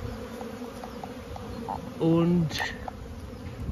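Honeybees fly around a hive in Cologne on a sunny 13-degree day in early March, giving a steady buzzing drone. One closer bee passes loudly and briefly, and a voice speaks faintly.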